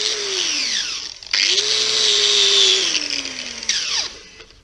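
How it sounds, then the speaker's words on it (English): Bench grinder cleaning a paint stripper disc gummed up with acrylic paint, a loud whining motor tone that dips and recovers as the disc is pressed against the wheel, with a harsh high grinding hiss throughout. "What I do is just head over to my bench grinder,"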